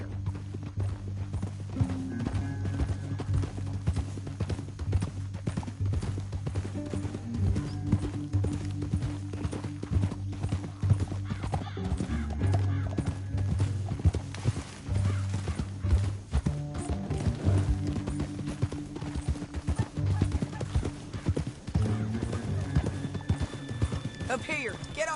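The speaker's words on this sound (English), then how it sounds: "Up here, get off your horse." Horses gallop across a canyon in Red Dead Redemption 2, steady rapid hoofbeats running throughout under frequent speech and an occasional whinny.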